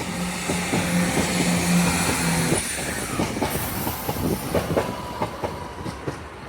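Northern train 170-457 pulls out of Doncaster station, an engine hum giving way to rhythmic clickety-clack of wheels over rail joints as it gathers pace, fairly close and without voices.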